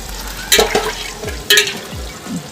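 Tandoori chicken sizzling in a pan as pieces are turned, brief bursts of frying hiss and clattering scrapes over quiet background, close and without talking.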